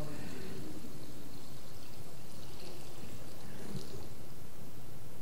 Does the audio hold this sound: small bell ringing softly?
no